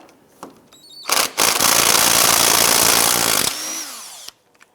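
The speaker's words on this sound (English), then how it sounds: "Use an 18mm socket, go ahead and remove that nut." Impact wrench spinning off a strut nut with an 18mm socket on a 2001-2007 Ford Escape, one loud sustained burst of whirring lasting about two seconds, preceded and followed by a few short clicks and quieter tool handling.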